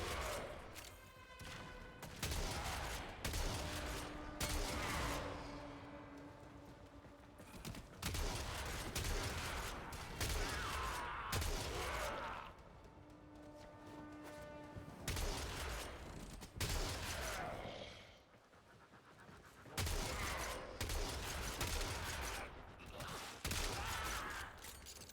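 Weapon fire in the shooter game Warframe rattles out in dense repeated volleys, loud and close, with short pauses between long runs of rapid shots across the stretch.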